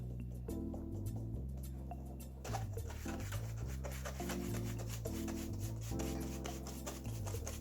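Flour sifted through a sieve for a yogurt dessert makes a steady, close, soft rubbing and rasping. The rhythm of the shaking shows only faintly, with no speech over it.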